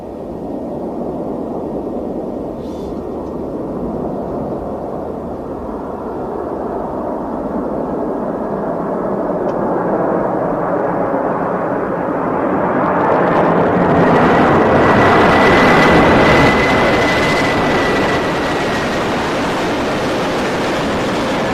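Stratolaunch carrier aircraft making a low approach flyover above a runway, a broad roaring engine rumble that swells steadily louder as it passes close overhead, with a rising whine near the peak before easing off.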